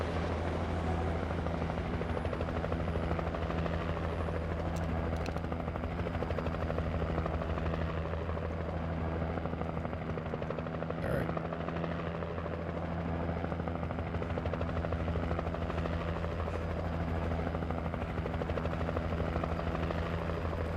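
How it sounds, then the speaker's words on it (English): A Coast Guard helicopter hovers in the video game Alan Wake, its rotor giving a steady, loud, continuous thrum with no letup. "Coast Guard helicopter is just hovering up there"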